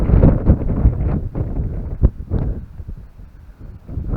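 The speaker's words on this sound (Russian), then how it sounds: "Сильный ветер поднялся прям." Strong wind gusting over a carp-fishing pond, heard as loud, continuous buffeting rumble against the microphone with brief sharper gusts throughout.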